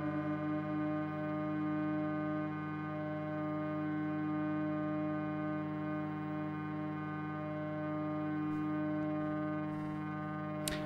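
A 1992/93 Philips turbo-drive VCR in fast forward gives a steady, droning mechanical whine with layered sustained tones and no talking, holding for around eleven seconds before a few faint clicks near the end.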